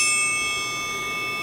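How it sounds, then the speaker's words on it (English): A triangle on an American Fotoplayer rings out with one clear metallic strike, its bright tones sustaining and slowly fading on their own. "And then we have a triangle."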